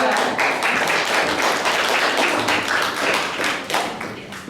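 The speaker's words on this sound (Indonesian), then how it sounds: "tepuk tangan untuk kelompok 2" Classroom applause for a student group presenting during an Indonesian teacher-training exam session: dense, steady clapping from a nearby group of people, holding strong for several seconds before thinning out toward the end.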